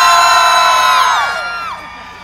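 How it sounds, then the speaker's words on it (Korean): Festival crowd in Haemi Eupseong fortress at Seosan, loud high-pitched cheering and whooping that swells at once and then tails off over a couple of seconds. "함성 한번?"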